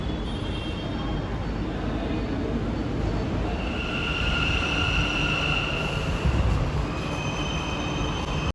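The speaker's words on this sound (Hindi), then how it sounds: "Bangalore की मेट्रो" A Bangalore metro train rolls along its line, a steady loud rumble of wheels on track with a sustained high squeal rising in the middle, continuous and close throughout with no voices.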